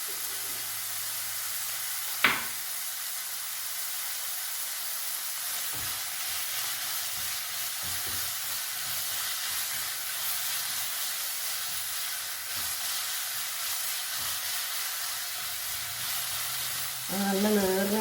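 Onions frying with salt for chicken dum biryani hiss and sizzle steadily in the pan, with occasional stirring clinks and scrapes, close and unbroken with no talk.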